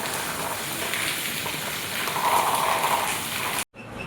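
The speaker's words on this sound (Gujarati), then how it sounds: "થોડોક વરસાદ ધીમો પડ્યો છે, બહુ નહીં પણ થોડો" Steady light rain patters on surfaces, a soft continuous hiss with no voices, ending in a brief cutoff.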